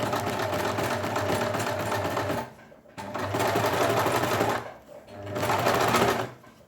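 A sewing machine runs a row of basting stitches alongside an earlier row while setting in a sleeve, a loud, steady motor whirr in three continuous bursts separated by short pauses.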